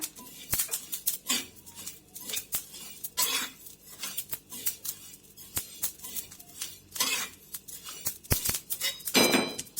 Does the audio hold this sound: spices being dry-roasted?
yes